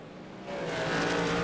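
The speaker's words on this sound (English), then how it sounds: "Get some car sounds going there for you." Race truck engines from the iRacing sim at Lime Rock swell in a rising, continuous drone, building louder over about a second as the field gets underway.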